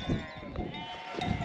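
Sheep and lambs bleating nearby, a few wavering calls overlapping against outdoor background noise.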